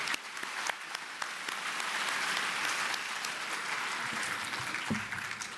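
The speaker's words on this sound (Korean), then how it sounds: "다시 한 번 더 큰 박수로 감사 표시해 주시기 바랍니다" Audience at a national elders' retreat of a Korean church breaks into sustained, dense applause, steady and full-bodied for the whole stretch with no voices over it.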